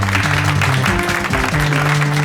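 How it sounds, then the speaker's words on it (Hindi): Audience at a TV quiz show gives loud, sustained applause to welcome the contestants, mixed with a backing music score throughout the brief burst. "इनका जोरदार तालियों से हम स्वागत करते हैं।"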